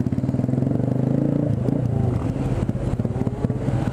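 A motorcycle engine chugs and revs close by in dense São Paulo traffic, a rhythmic rumble with clattering and scraping as it moves and passes.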